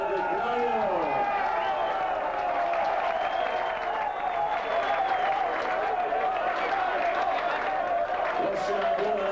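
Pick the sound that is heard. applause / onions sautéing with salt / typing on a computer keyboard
applause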